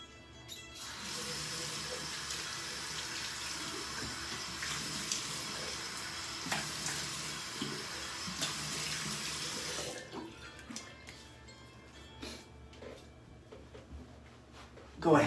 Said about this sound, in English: I'm gonna splash some water on my face